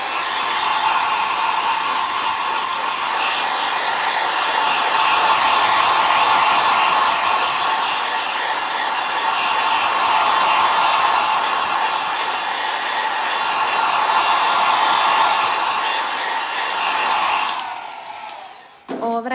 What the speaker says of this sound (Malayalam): ഡ്രയർ ഇട്ടിട്ടാട്ടോ ഉണക്കുന്നത്